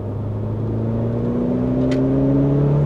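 A 330 hp Mitsubishi Evo with a five-speed gearbox cruises in fourth gear at about 70 km/h, its engine giving a loud, steady droning hum with a slowly rising pitch from inside the cabin.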